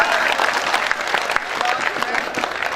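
An audience at a Hindi comedy poetry gathering (kavi sammelan) applauds, dense and loud continuous clapping from many hands filling the whole moment.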